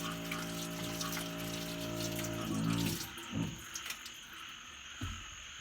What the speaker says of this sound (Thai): จะบอกว่าด้านนอกนะคะ เสียงกบเสียงเขียดแบบดังมากๆเลยค่ะท่านผู้ชม